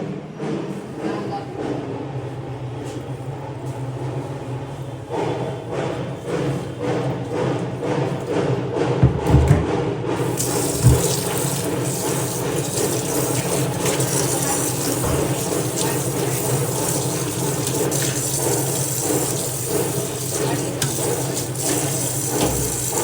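Tap water runs steadily with a broad rushing hiss while dishes are scrubbed and washed, with occasional thumps and clatters and people talking over it throughout.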